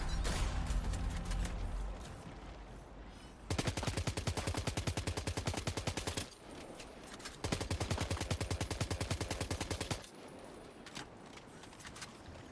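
Automatic assault rifle fire in Death Stranding 2, heard as several sustained bursts of rapid, evenly spaced shots separated by short pauses, loud and close with no talking over it.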